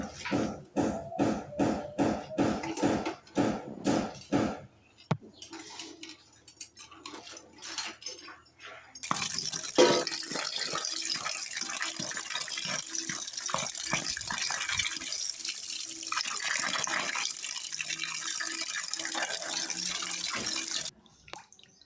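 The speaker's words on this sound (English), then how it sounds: "Pour the hot water over the crabs in the bowl, then drain it and immediately introduce cold water." Hot water is poured over land crabs in a bowl, a steady splashing gush that starts partway in after a run of sharp clattering knocks, then cuts off near the end.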